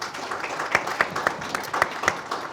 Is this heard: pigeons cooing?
no